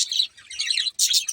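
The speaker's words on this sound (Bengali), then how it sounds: "এই যে পাখিরা ডাকাডাকি করতেছে।" Birds calling and chirping outdoors in rapid, high twittering bursts, one after another with brief gaps, fairly close and clear, with no talking over them.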